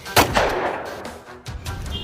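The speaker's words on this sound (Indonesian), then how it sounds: "Aduh, sakit juga ya pada tembakan si Joker itu." Several sharp toy or costume gunshots crack in quick succession during a clown-versus-gangster skit, loud and close, with a brief lull before more shots follow.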